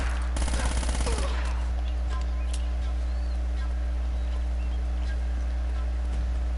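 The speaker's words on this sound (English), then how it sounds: "Machine gun of justice!" A short, rapid burst of machine gun fire in Uncharted: Drake's Fortune rattles out early on, then fades into a steady drone of game ambience with a few faint distant pops.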